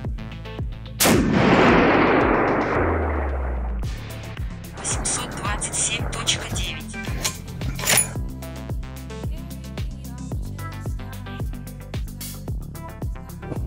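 A single sharp rifle shot cracks out loud and close during a chronograph velocity test outdoors, followed by a decaying rumble and then faint rhythmic clicking and people talking.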